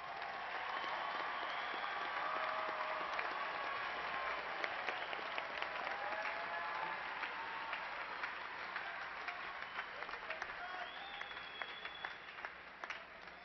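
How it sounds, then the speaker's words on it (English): A commencement audience at Angelo State University applauds its graduates in sustained, dense clapping that holds steady for several seconds before gradually thinning, heard from a distance in a large hall. "And please honor these graduates with a round of applause."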